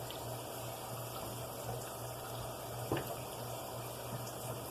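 Water is poured into a pot of rice, a faint, steady, close splashing stream with a low hum behind it.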